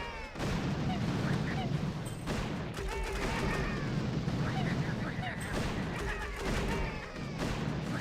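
Artillery shots in the mobile strategy game Boom Beach, a dense run of booming blasts layered over game music and effects, with someone talking throughout.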